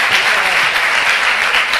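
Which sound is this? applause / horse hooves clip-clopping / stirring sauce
applause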